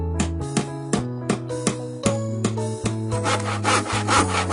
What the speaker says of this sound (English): sawing,